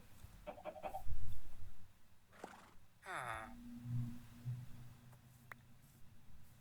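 A horse in Minecraft gives a short, quavering whinny that falls in pitch. It rises over a clucking, farmyard-like background, with a few other brief game noises around it.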